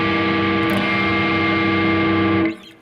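A diminished chord strummed on an electric guitar through heavy distortion, ringing loud and sustained with a touch of reverb for about two and a half seconds before it is cut off.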